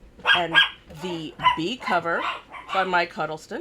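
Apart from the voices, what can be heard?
dogs barking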